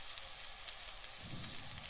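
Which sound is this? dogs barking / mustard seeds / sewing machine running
mustard seeds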